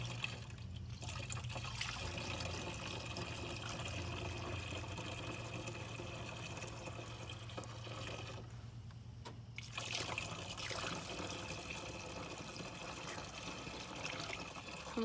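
Liquid is poured through a funnel in a school science project, a continuous close gurgling trickle and splash that runs steadily throughout with a brief lull midway.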